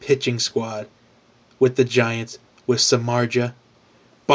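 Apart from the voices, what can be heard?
No everyday noises stand out.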